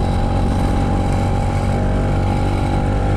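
A motorcycle engine drones steadily while riding along city streets, a loud, even hum with a constant pitch and rushing wind, no voices.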